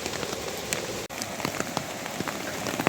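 Steady rain falling outdoors, a dense even patter with sharper individual drops striking a nearby surface, close and constant.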